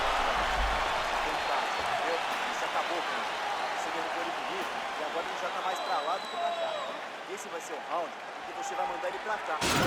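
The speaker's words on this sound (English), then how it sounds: "the crowd voicing its appreciation after that round" A fight crowd at a combat sports event applauds and cheers after a round, dense continuous clapping at steady volume with talk over it.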